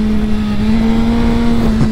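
A motorcycle engine revs hard and holds a steady high drone while traction control cuts in, loud and close, with no speech.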